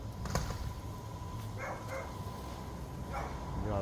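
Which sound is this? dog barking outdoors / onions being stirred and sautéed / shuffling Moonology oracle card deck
dog barking outdoors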